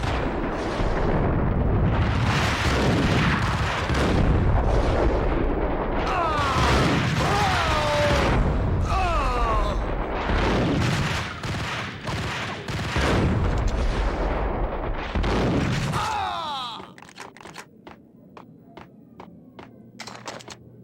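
Repeated gunfire and explosive booms in a shooter video game, loud and dense bursts stacked over one another, then thinning into sharp isolated shots as the din fades near the end.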